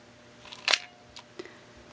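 A Pentax LX film camera's shutter fires with a sharp mechanical snap, followed by a couple of lighter clicks from the winding lever, all close and crisp in a quiet room.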